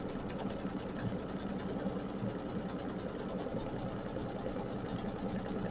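An embroidery machine stitches navy blue thread in a steady, rapid mechanical chatter, close and continuous with no voices.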